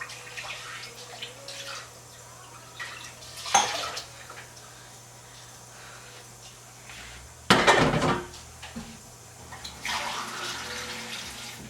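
Water is poured into a cooking pot of rice while making sambhar, in two short splashing bursts a few seconds apart, with quiet kitchen clatter and faint talk in between.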